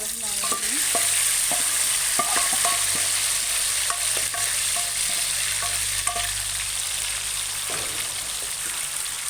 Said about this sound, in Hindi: ये गोश्त भी जो है मैं इस ऑयल में शामिल करूँगी